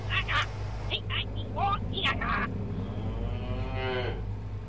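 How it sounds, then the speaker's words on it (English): A cow in the video game Fallout 3 lets out a long, drawn-out moo, preceded by a few short, choppy vocal bursts over a low steady game hum. "It's a cow!"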